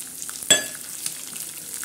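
Onion and green chillies drop into a pan of roasted peanuts, a sharp clatter followed by a soft, quiet sizzle of frying, with faint stirring afterward and no talk.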